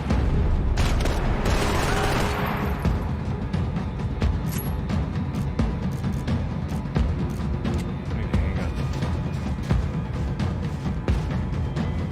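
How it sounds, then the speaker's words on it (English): Bursts of rapid gunfire and booming shots in the video game Max Payne 3, dense and sustained, with sharp cracks over a rumbling background. "Gunfire over Hoboken."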